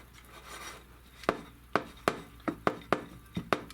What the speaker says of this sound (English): I'll be back when I'm all done rubbing the edge of my pan with the butter